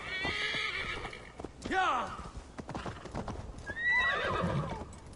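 A horse named Roach in Assassin's Creed Valhalla whinnies loudly twice, rising and falling, while hooves clip-clop steadily underneath, close and clear, with a voice speaking briefly between the calls.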